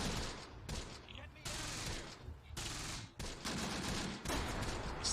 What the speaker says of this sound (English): they're bringing mortars in now